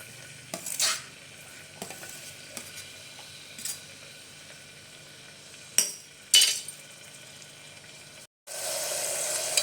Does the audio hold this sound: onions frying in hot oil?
yes